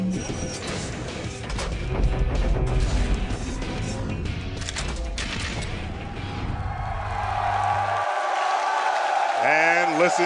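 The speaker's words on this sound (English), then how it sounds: "And listen to that raucous crowd." A raucous crowd at a Major League Gaming championship Sunday event in Anaheim cheers in a dense, loud roar amid crashing impacts, then gives way to a broad sustained crowd wash with a voice rising at the end.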